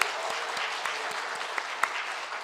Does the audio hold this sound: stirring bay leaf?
no